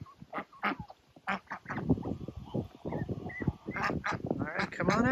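Ducks quack on a farm, both drakes and a hen, in a steady run of overlapping calls close by. Calls come in short bursts and some are more drawn out.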